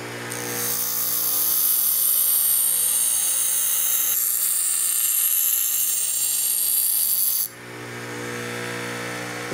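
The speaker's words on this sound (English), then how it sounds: "Now I gotta grind a flat spot on the back of this where it touches the wood." A power grinder cuts a flat spot on the metal part of a 16-gauge European Guild shotgun: a loud, steady high-pitched whine holds for about seven seconds, then drops away as the tool stops.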